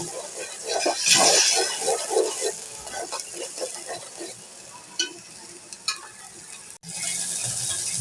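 Turmeric, coriander and chili powder masala with a splash of water sautés in a pan, with scraping stir strokes over a soft sizzle, a few sharp knocks, and a louder hiss near the end.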